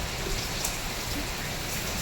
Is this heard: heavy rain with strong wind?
yes